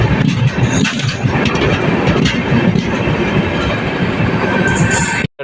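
The Chandigarh–Madgaon–Ernakulam express overtakes on the adjacent track, a loud, continuous rumble and rattle of passing coaches with rhythmic clickety-clack of wheels close by, cutting off abruptly at the end.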